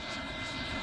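An RC AeroFoam T-45 EDF jet flies past with a steady, faint ducted-fan whine and rush of air, heard alone at a distance.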